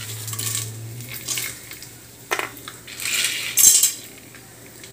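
Cashews stirred with a metal spoon in a pan for mushroom biryani, giving close, bright scraping and clinking against the metal over a steady low hum, with a sharper clatter near the end.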